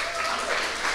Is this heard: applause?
yes